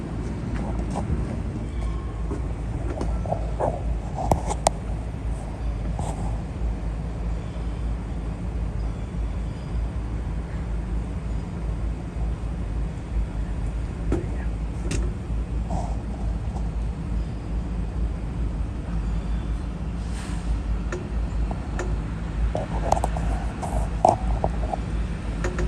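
A Long Island Rail Road train, number 1972, draws near from far off on the Main Line during the evening rush, a low steady rumble that holds evenly throughout with faint occasional clanks over it.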